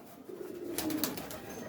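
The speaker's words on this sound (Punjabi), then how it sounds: "ਕਬੂਤਰ ਵੀ ਦੇਸੀ ਤੇ ਮਾਦੀ ਵੀ ਦੇਸੀ" Desi pigeons cooing nearby in a loft of old-bloodline birds, a soft low throaty rolling coo running through the short stretch with faint background noise.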